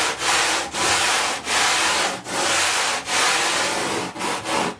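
Surfoam rasp shaving an XPS foam surfboard blank, a loud close rough scraping in repeated long strokes with brief gaps between each pass.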